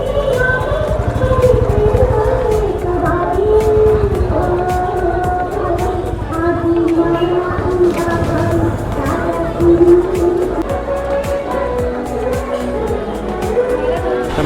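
A dense crowd murmurs at the Chinchpokali Aai Bhawani temple in Mumbai during Devi darshan, with festive music droning through the hubbub and someone talking close by.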